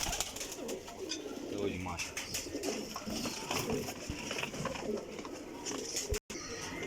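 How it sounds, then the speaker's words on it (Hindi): Flying pigeons coo in soft, repeated low calls throughout, close and continuous, with someone speaking briefly over the birds. "उड्डन वाले बड़े शानदार कबूतर जे"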